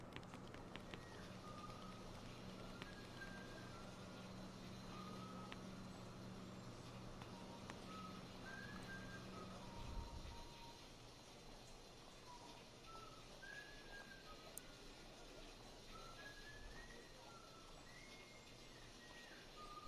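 A faint, airy whistle drifts through the ambient soundscape of a Sonic Unleashed hub area, a hidden Easter egg, repeating in short melodic phrases over a steady low background hum.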